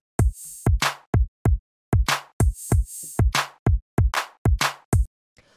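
A drum pattern plays as a remake, loud and punchy, with sharp, dry hits in a tight repeating groove, evenly spaced with short gaps before a clean stop.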